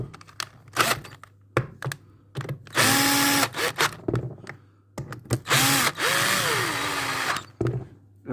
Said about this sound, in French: je prends ma visseuse